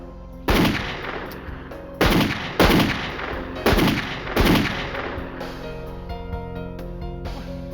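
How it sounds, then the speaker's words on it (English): Gunfire from a shooting confrontation in which wardens were killed: five loud, close, sharp shots in an uneven rhythm, each with a booming decay, followed by a lingering quiet rumble. "What you shooting for?"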